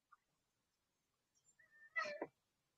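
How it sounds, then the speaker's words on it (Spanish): A house cat gives one short meow close by after a faint chirp, with near-silence around it and no talking. "Y aquí tenemos a mi gato que nos acompaña."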